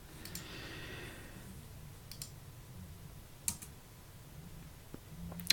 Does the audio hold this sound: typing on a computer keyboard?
yes